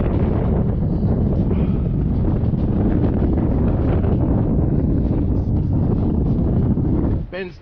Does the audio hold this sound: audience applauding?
no